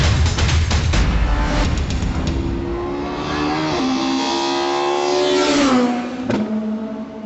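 A Chevrolet with a 101 horsepower petrol engine drives hard, its engine revving loud and close, the pitch climbing through the gears and dropping at each shift.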